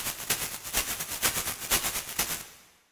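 A shaker sample run through an erosion plugin, its timbre turned gritty and full-range: a rapid series of harsh, crackling bursts in a steady pulse, close and fairly loud, ending in a short fade, with no voices.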